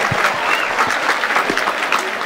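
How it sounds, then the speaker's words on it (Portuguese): A studio audience claps steadily and densely for a guest on a talk show, a continuous wash of applause with no break. "palmas pra dona Palmira."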